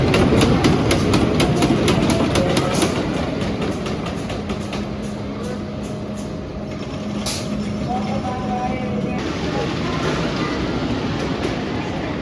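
Wild Beast wooden roller coaster train at Canada's Wonderland rolling out of the station, a loud continuous rumble with rhythmic clattering and brief hissing bursts, steady and close throughout with no talk.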